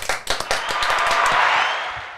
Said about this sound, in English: it was an applause. It was crowd cheering.